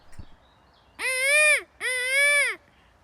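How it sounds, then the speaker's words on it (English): Two loud, drawn-out harmonic bird calls in quick succession, nasal and bleating in tone, close by against quiet background. "Clearly the bird noises brought him luck"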